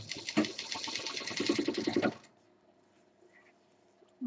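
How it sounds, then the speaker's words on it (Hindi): A sewing machine stitches a 4-inch belt for a mixer cover, running in a fast, steady rattle for about two seconds before stopping abruptly, leaving near silence. "और अब हम 4 इंच की बेल्ट को सिल रहे हैं।"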